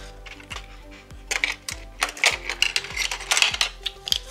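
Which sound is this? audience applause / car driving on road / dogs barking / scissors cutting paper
scissors cutting paper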